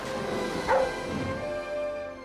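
Sled dogs bark and yip in a film scene, a short, close, sharp burst of barking over a steady background of music or ambience.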